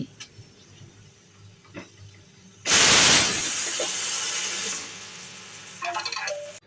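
A pressure cooker on a gas stove, cooking a capsicum dish, lets out a sudden loud burst of hissing steam that holds for about two seconds and then eases into a steady softer hiss, with faint clicks before and after.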